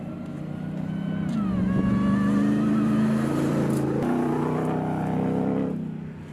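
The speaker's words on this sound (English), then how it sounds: "If you hear a little rumble the entire time I'm doing this video, it's the engine" The 6.2-liter supercharged engine of a 2021 Ram 1500 TRX rumbles nearby, a deep steady drone that swells slightly and shifts pitch before easing off, with no one talking.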